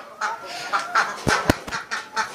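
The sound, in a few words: ducks, muscovy ducks and native chickens being fed greens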